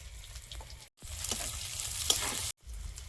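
Chopped onion frying in a pan for a spicy small-fish chorchori, a loud continuous sizzle with a few clinks of stirring, broken by two short silent gaps.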